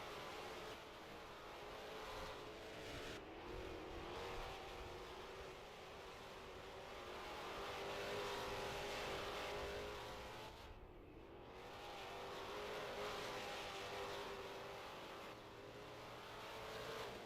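Stock cars race around a track at a championship feature, a steady distant engine drone rising and falling as cars circle, faint and continuous with no talk.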